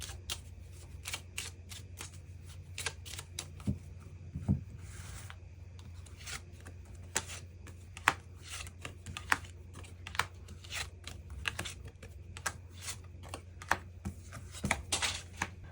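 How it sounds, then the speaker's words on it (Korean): Tarot cards being shuffled and drawn, with steady papery riffles and soft slaps repeating throughout, close and fairly quiet, with no voices. "추가 카드 뽑아보도록 하겠습니다"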